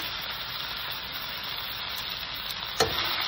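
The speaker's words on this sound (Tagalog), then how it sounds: "prito ko pa ng konti yung beef para masarap talaga siya" Beef sizzles steadily in a hot pan, a constant loud frying hiss with a brief clatter near the end.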